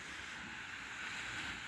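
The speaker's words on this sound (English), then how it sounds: "But then you can come down here at night and all you can hear is the waves." Sea waves at night at La Mata, a soft, steady wash of surf heard from nearby, faint and unbroken with a hint of wind.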